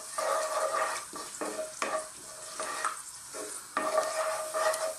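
Whole seeds sizzling in hot oil at the start of an eggplant and tomato curry, with a steady close crackle and repeated stirring scrapes against the pan.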